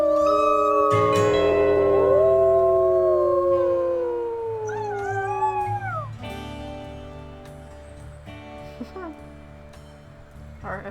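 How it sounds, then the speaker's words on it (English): Several wolves in the WolfQuest video game howl together in long, overlapping rising and falling tones, loud and close, fading into softer calls and a few short yips toward the end; no talk is heard. "Let's maybe do a howl, boost our affinity a little bit."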